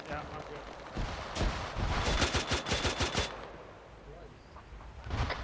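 Gunfire in the military shooter game Arma 3, with rapid rounds in a rhythmic machine-gun string amid booming artillery-like shots, all fairly distant and muffled over a steady rumbling background.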